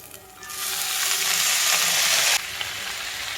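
Garlic, ginger and dried chillies sauté in a hot pan, a loud close sizzle that surges up and holds steady for about two seconds before cutting off abruptly.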